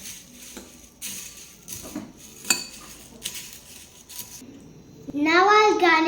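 A spoon clinks and scrapes against a bowl while cornflakes chaat is mixed by hand, several irregular metallic taps and rattles up close, followed by someone talking at the end.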